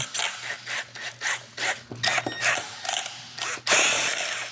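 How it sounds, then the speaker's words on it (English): Close, repeated bursts of grinding and rasping as a drill bites into a car's fuel pump basket, short strokes in an uneven rhythm with brief pauses between. "the reason we're drilling this out is to separate the basket."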